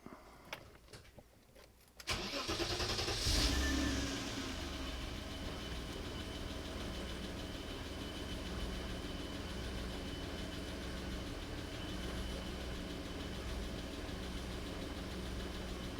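Car cranking over and catching, then settling into a steady idle; a brief clatter of starter and ignition leads into a loud rev that eases down to a smooth, continuous engine hum for the rest, with no voices.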